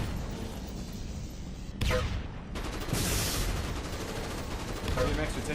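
Rapid gunfire bursts in a competitive 6v6 online shooter match, sharp cracks and a sustained volley over dense game noise, with a commentator talking over it.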